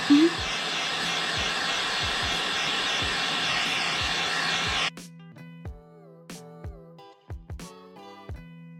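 A heat gun blows continuously for about five seconds while shaping foam for lobster-style costume armor, then cuts off, leaving scattered clicks and light handling noises.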